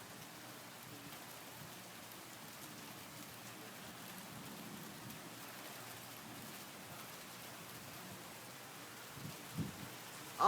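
Rain pours steadily during a thunderstorm, a soft, even hiss of drops heard from a distance, with a few faint thumps near the end.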